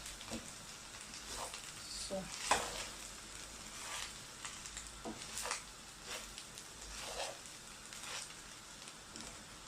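Fried rice being stirred in a pan, a soft continuous sizzle with intermittent scraping strokes of the spatula, fairly quiet and steady, no speech.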